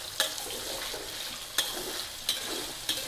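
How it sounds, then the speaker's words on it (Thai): Marinated, starch-coated pork with garlic fries in a pan with a steady soft sizzle, broken by a few sharp clicks or scrapes of stirring spaced about a second apart. "การจะทอดให้หมูมันมีสีเหลืองๆ สักหน่อยหนึ่งนะคะ"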